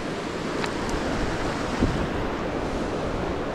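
Ocean waves washing onto the shore, a steady full roar of surf with wind buffeting the microphone and no voices.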